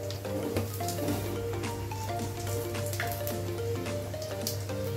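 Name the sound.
panch phoron spices and dried chilli frying in oil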